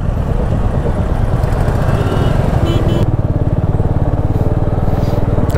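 A Royal Enfield Meteor 350 motorcycle crawls through a traffic jam, its steady low engine thump loud and close over a dense wash of surrounding traffic noise.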